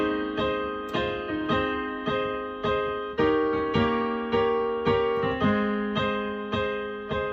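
Piano working through the chord sequence of a song, evenly pulsing struck chords that shift every few beats, solo and up close.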